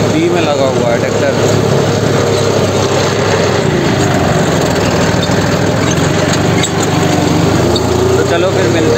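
Tractor engine, a 5310 pulling a seven-disc harrow in B range, third gear, runs steadily and loudly throughout at close range with constant rumble.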